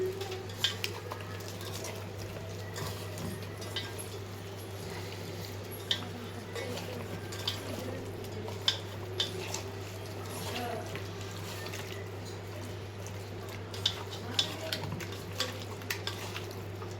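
Chicken biryani masala stirred into a pot of chicken with coriander: soft spoon scrapes and occasional clinks against the pot over a steady low hum and faint sizzle, continuing throughout.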